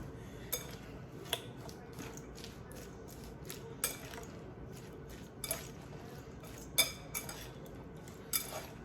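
A utensil stirs poppy seeds into a vinegar slaw in a bowl, with soft wet mixing and sharp clinks of metal against the bowl recurring irregularly, close and fairly quiet.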